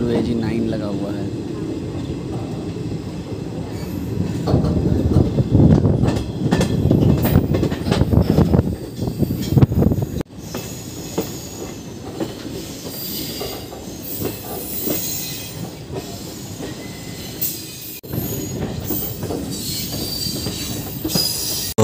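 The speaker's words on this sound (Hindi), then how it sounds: "ट्रेन में WAG 9 लगा हुआ है।" Indian express train hauled by a WAG 9 electric locomotive running near Bareilly Junction, a loud continuous rumble of wheels and rail clatter with occasional squealing, a brief drop in level midway, and a voice talking over it.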